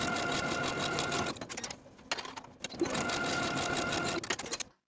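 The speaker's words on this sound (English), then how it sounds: "Then I'll sew each of those side seams with a 5/8 inch seam allowance" A sewing machine stitches the side seams of a crop top bodice in rapid whirring bursts, pausing twice briefly before a final run that stops abruptly.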